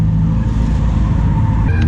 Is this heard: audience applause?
no